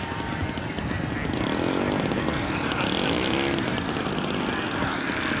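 A Canadair Sabre F-86 Mark VI jet taxiing at an airshow, a steady, loud engine roar with a broad rushing whine that holds throughout.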